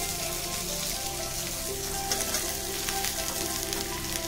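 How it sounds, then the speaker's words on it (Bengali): Chopped onions sizzling in oil in a pan over medium to low flame while being stirred, a steady close crackle with occasional scraping, no talk. "একটু ভাজা হয়ে গেলে তার মধ্যে আমি"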